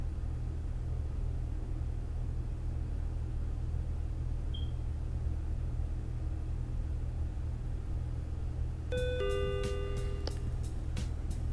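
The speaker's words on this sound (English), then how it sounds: "The store door chimes the mundane tune it sings for each and every soul" A shop door chime rings as a customer enters, a few bright tonal ding notes sounding near the end over a constant low rumbling background.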